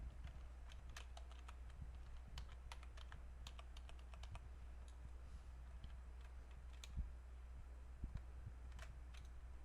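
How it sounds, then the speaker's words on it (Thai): Keys being typed on a computer keyboard while entering text in Adobe Illustrator, with irregular clusters of light clicks over a steady low hum, quiet and close. "พิมพ์ข้อความของเราลงไปนะครับ"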